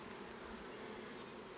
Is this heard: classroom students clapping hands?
no